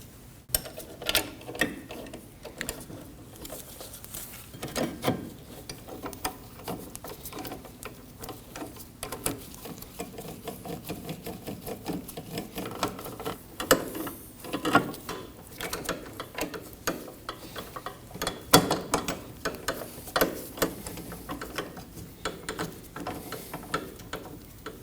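Brake bracket bolts are snugged down on a 2003-2006 Subaru Baja during a rear parking brake shoe job, with rapid, irregular ratchet clicking close by across the whole stretch.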